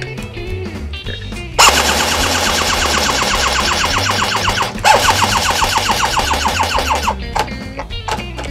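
An AK airsoft gun gearbox gives a rapid mechanical buzzing whir continuously for several seconds, cuts briefly, then resumes before locking up and stopping abruptly, with faint clicks before and after.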